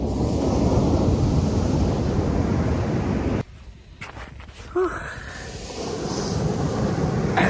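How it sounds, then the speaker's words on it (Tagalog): Strong ocean waves roll onto a beach in Dipaculao, Aurora, a loud continuous roar with wind buffeting the microphone before it drops away into quieter surf and light footsteps. "Ang lakas ng alon."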